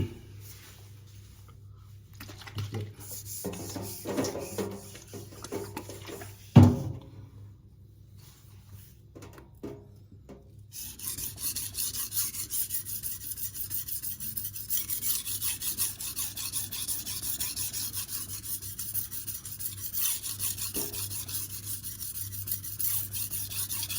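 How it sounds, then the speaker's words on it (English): A knife blade rasps steadily across a Venev resin-bonded diamond whetstone, F240 and F400 grits, in long continuous close strokes with a brief pause and a sharp knock partway through. "Then I'll be using my Venev F240 and F400."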